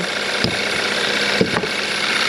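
A Hyundai Tucson engine with a suspected fault idles steadily under the hood, heard up close with a constant mechanical hum and a couple of brief ticks or knocks, and no one talking.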